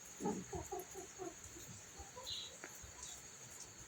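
A brown hen that has just laid an egg clucks in a quick run of short, rhythmic calls nearby, then quieter scattered clucks with faint outdoor background noise.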